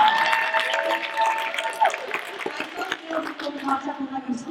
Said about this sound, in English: oh yes, applause